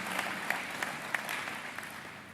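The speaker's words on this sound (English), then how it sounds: "let's give them a round of applause for the wonderful work that they have been doing" Audience applause at a presidential jobs summit, a sustained patter of many hands clapping, moderately distant and even, without speech.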